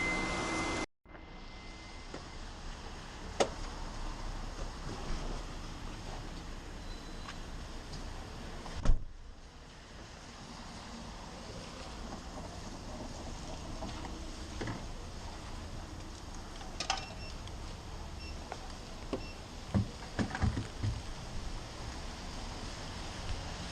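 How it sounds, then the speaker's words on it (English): A car being refueled at a fuel pump in Malaysia, with a steady broadband rush of fuel flow that starts abruptly, briefly dips, then runs on evenly with a few faint clicks and knocks. "You may start fueling now."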